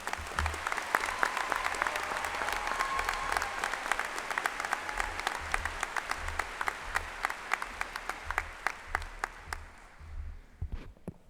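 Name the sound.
applause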